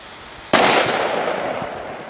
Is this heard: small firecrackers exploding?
yes